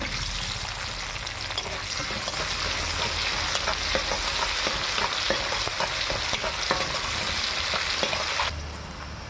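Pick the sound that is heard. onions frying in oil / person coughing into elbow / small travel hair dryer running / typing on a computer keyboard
onions frying in oil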